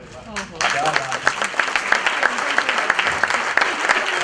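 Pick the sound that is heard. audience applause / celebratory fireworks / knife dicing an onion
audience applause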